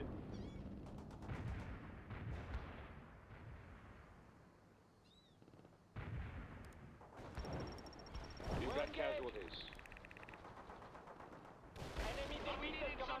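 Battlefield gunfire in the real-time strategy game World in Conflict: rapid bursts and sharp shots crackle in clusters, dropping quiet for a moment before loud volleys resume, while voices speak over the action.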